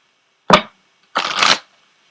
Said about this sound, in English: I'm going to go ahead and pull an Ascended Masters card for you as well